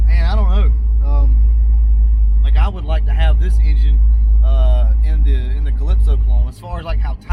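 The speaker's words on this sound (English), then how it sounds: "This is a really good running engine." A Ford Mustang Fox-body engine idles with a deep, steady low rumble close by. Someone talks continuously over it, and the engine drone dips briefly near the end.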